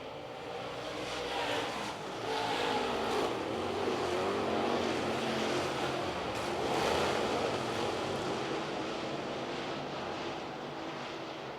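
Limited late model race cars racing side by side at Cherokee Speedway, a broad distant engine roar that swells and fades as cars pass, steady and fairly faint with no talk.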